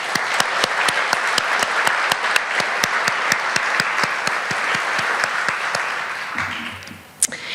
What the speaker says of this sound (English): Can I have some applause for our donors?